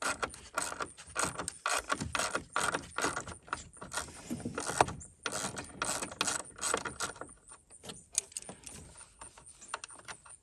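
A hand ratchet clicks in rapid, uneven strokes as it loosens the battery hold-down bracket bolt on a 2018 Ford Edge, close and crisp with short pauses between runs.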